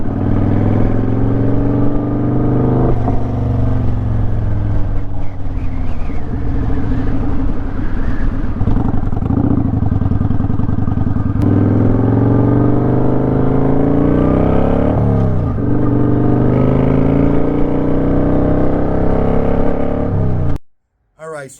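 Honda Gold Wing motorcycle riding along, its steady engine drone loud and continuous with a rider talking over it throughout, ending abruptly.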